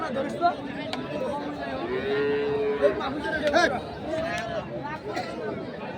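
Sahiwal cattle at a cattle market low with a few drawn-out moos amid steady background chatter from people nearby.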